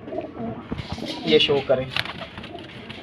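Highflyer pigeons coo softly on a rooftop loft, low throaty calls mixed with scuffling and wing movement while someone talks nearby.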